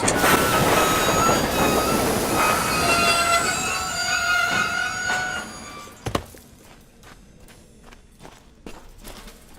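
A train in the Rogue Warrior video game rumbles along with high squealing wheels, then the clatter fades to a quieter, sparser background after a sharp knock.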